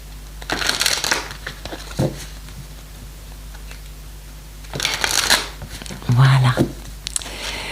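A deck of oracle cards being shuffled for a card reading, with soft papery riffles and slides coming in separate bursts, close and moderately loud, along with a few faint thuds. There is no talking.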